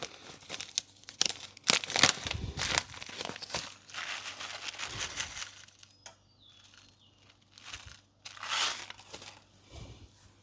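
Beeswax beads for homemade sunscreen spill into a container in several rattling, crinkly bursts, loud at first then tapering into shorter scattered pours with pauses between.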